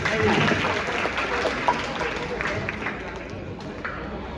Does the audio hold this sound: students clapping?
yes